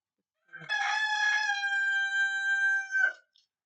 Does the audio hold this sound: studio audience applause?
no